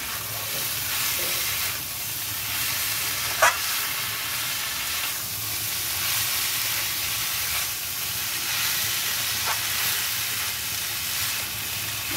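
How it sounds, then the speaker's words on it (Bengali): Chopped banana flower tossed into a hot pan with shrimp for a curry, frying in a steady, even sizzle with faint stirring scrapes and no talk. "এবার মোচাটা দিয়ে দেবেন। এবার মোচাটা দিয়ে দিলাম।"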